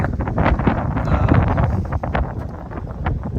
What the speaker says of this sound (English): It's already pretty windy